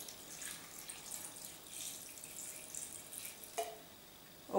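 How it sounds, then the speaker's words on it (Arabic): Water is poured from a tap into a copper pot in a kitchen, a soft, steady trickle heard faintly and at a distance, ending with a brief louder splash. "نصب لها شوية ماء"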